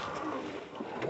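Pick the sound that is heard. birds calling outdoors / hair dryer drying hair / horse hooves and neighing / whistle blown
birds calling outdoors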